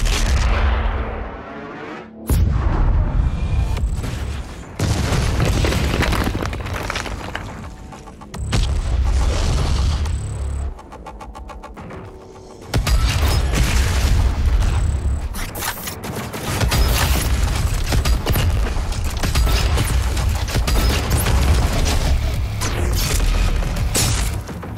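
A giant cannon fires at the Mars core in the video game Doom Eternal, with loud, heavy booming blasts rolling in long sustained bursts and brief lulls in between.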